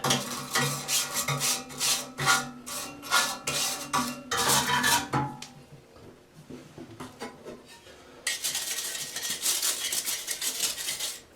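A handheld brush scrubs a part from a 1958 Peerless 7602 gas heater. Close, rhythmic, gritty strokes come in quick bursts, pause for a quieter stretch, then resume as steady scrubbing, with no voices.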